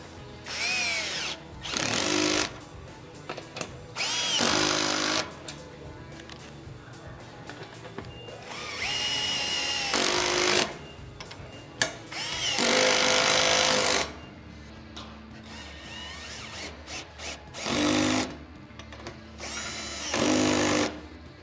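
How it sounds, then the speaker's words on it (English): Power tool with a 13mm socket tightening Prinsu roof rack bolts on a Land Cruiser 100 Series, a series of loud, close whirring bursts that start and stop repeatedly, separated by brief pauses. "you can go ahead and fully tighten it down. I'm gonna use a 13mm socket."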